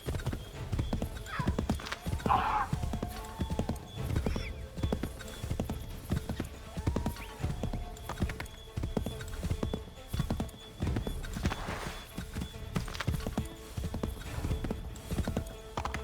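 A horse gallops in Assassin's Creed III, hooves pounding in a fast, steady clip-clop rhythm with an occasional whinny, over a low game soundscape.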